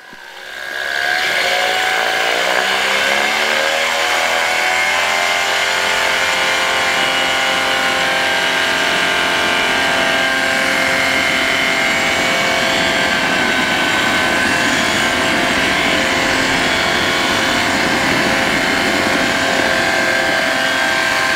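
A light aircraft's engine runs up to full power for a takeoff roll on runway 19, a loud, steady propeller drone that builds quickly in the first second and then holds strong and continuous throughout.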